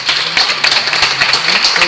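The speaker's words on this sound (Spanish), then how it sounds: "Un aplauso para Rodrigo." An audience applauds after a talk at an agrotech startup forum on irrigation agronomy, with dense, sustained clapping close and loud throughout the short clip.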